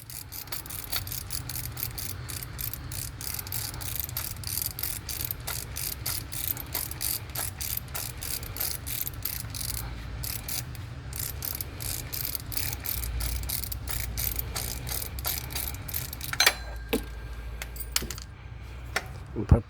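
Ratchet loosening the tensioner pulley bolt on an Opel Corsa D 1.3 CDTI accessory belt: a long, steady run of rapid metallic clicks, close and fairly clear, with a few sharper knocks near the end.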